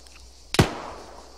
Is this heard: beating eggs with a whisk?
no